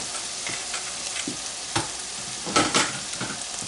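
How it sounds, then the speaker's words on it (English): Taco salad filling cooks in a pan over medium-high heat, a soft continuous sizzle broken by a few scraping stirs and louder clattering bursts near the middle and end. "Letting this cook down a little bit"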